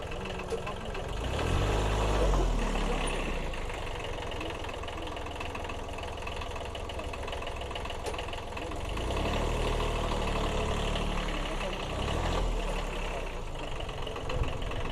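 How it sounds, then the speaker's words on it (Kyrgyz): A 120-horsepower Belarus tractor idles in Osh with a low, steady diesel rumble that swells slightly at moments. "15 аттын күчүнө барабар болгон трактор мына биздин Ош шаарыбызда турат."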